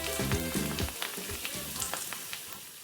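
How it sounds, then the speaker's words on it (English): A sizzling, frying-style sound effect, steady and crackly, starts with a brief musical jingle and then carries on alone at a fairly even loudness. "Sizzling."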